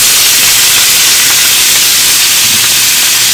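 Bacon frying in a pan among rendered meat fat, a loud, dense and constant sizzle hiss close by, with no voices.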